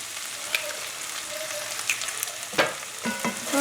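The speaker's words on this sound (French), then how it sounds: "Donc là je fais bien cuire l'œuf." Eggs frying in a pan for pad thai: a steady close sizzle and crackle with a few sharp spatula scrapes and taps toward the end, no voices.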